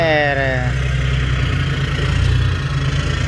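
Hino Mega JO8E truck with an electric turbo, its engine running steadily and loudly close by, a low continuous throb with a brief whistling rise at the start and someone talking over it.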